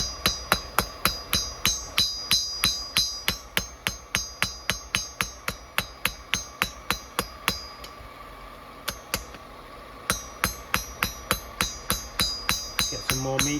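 Hammer forging a bushcraft knife from old spring steel, using a lighter plenishing hammer on the blade. Sharp metallic strikes ring out in a steady, fast rhythm, close and loud, with a brief pause midway.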